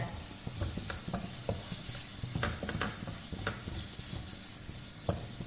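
Ground coriander powder frying in a curry pan while a spoon stirs it, giving a soft sizzle broken by sharp scraping clicks of the spoon against the pan, close and steady, with no talking.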